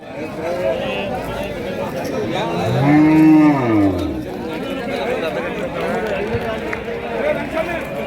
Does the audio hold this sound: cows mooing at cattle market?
yes